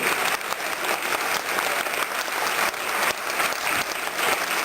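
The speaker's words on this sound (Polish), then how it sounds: "Wielkie brawa dla pani minister Elżbiety Winikowskiej" A large hall of attendees at a regional party convention claps to welcome a government minister, loud continuous applause with rhythmic swells, steady throughout and free of speech.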